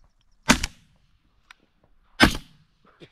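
Two sharp shotgun blasts about two seconds apart ring out outdoors at a duck hunt aimed at a drake, each crack trailing into a short echoing decay, with faint clicks and rustles between them.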